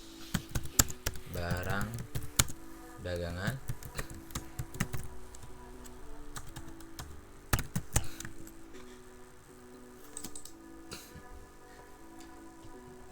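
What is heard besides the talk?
typing on computer keyboard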